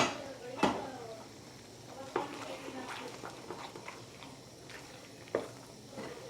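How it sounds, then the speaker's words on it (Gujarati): A spoon stirs sticky Kashmiri halwa with ghee in a pan, giving a few sharp scrapes and knocks against the metal spaced a second or more apart over a quiet, low kitchen background. "આપણે હલવાને તો મિક્સ કરતો રહેવાનો છે, નકર ચોટી જાય"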